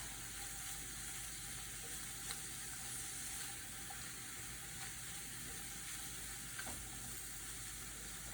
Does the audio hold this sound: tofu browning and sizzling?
yes